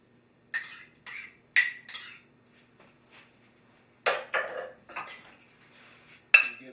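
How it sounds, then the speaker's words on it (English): Ranch slaw being stirred in a bowl with ranch dressing, giving a series of close, scattered clinks and scrapes of a utensil against the dish, with short bursts separated by quiet gaps. "Give that a nice stir."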